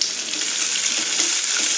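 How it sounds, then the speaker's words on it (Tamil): Onion and garlic sautéing in a pan for a capsicum curry, a dense, even hiss of sizzling oil filling the whole stretch, close and fairly loud, no voices. "வெங்காயத்தோடைய பூண்டெல்லாம் வதக்கி கொடுத்துறோம்."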